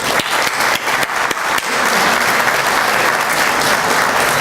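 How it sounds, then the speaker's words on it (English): A luncheon audience applauds loudly and steadily, a dense, close wash of many hands clapping that swells after a few scattered early claps. "Let's give Mickey another round of applause."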